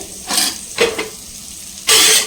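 Shallots and capsicum sizzle in an oiled pan during stir-frying, with three loud bursts of hissing and scraping as the vegetables are tossed, separated by quieter gaps.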